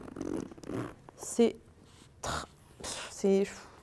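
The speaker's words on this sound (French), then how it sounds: "on est sur une fermeture éclair pour la fermeture" A zipper on a luxury handbag, a Dior or Louis Vuitton piece, being pulled open in short close strokes, interleaved with someone talking.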